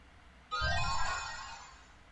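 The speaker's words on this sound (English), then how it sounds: "That was my phone." A phone ringtone starts abruptly and plays a bright, busy tone for over a second before fading slightly, fairly close with no talking over it.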